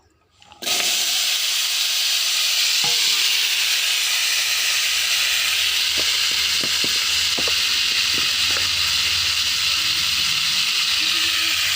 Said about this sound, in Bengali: এখন কড়াইয়ে আমি